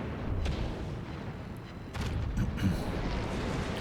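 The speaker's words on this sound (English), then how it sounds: "Now the secondaries have not stopped firing at all in this game." Secondary guns blast continuously in a World of Warships naval battle, a dense, rumbling barrage of overlapping booms and low cannon thuds that swells after a brief dip, with no talk over it.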